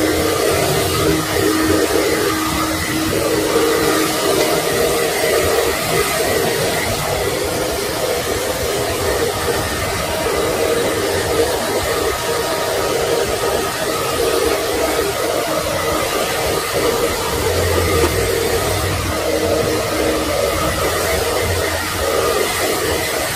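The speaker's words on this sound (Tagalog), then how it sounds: "So i-blower lang din natin siya para matuyo na siya agad." A blower dries a freshly coated silk screen stencil, a loud, steady rushing hiss of air that runs continuously without a break.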